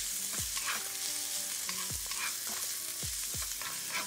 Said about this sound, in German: Dann lassen wir das jetzt alles hier ein bisschen anbraten.